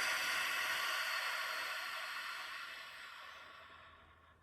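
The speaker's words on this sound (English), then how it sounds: "Draw a nice deep inhale through the nose and a longer exhale." A long, soft breath sound during guided relaxation breathing, its airy rush gradually fading to quiet.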